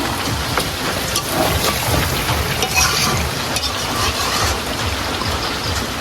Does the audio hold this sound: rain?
yes